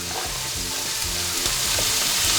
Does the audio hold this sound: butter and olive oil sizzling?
yes